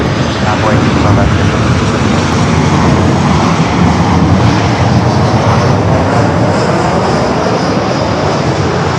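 A jet airliner takes off from runway 24 left at LAX with a loud, continuous, rushing engine roar, while radio voices talk over it.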